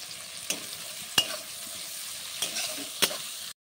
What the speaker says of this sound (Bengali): পেঁয়াজ কুচিটা ভালো করে আমি নাড়িয়ে নেব